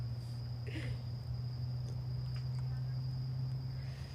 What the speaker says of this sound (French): Non, c'est des cigales.